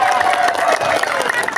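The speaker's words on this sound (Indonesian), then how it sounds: "Tepuk tangan." A crowd at the closing ceremony of a village football cup roars and cheers in a dense, steady wash of noise, with clapping blended in under the mixed voices.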